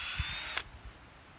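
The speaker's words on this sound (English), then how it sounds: "you do want to put your drill bit in and out just a few times to get most of those shavings out of there" A power drill whines briefly, with the drill bit boring into a palm tree trunk, then stops abruptly, leaving a few low knocks and quiet.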